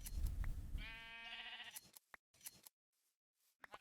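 Sheep in a Minecraft All the Mods 9 modpack bleat in a single drawn-out, wavering cry, loud and close, followed by short clicks and quiet game sounds.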